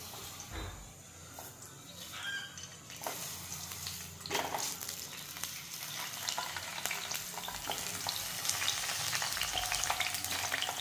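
Brinjal pieces frying in warm oil give a continuous soft sizzle and crackle, quiet and close, with occasional stirring scrapes and no talking.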